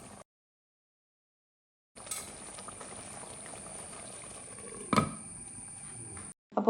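Chicken curry simmers in its masala gravy in a pan, giving a steady soft bubbling hiss for several seconds with one brief louder clack partway through, after a silent start.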